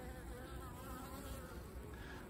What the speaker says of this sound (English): I have seen bees here going in with pollen.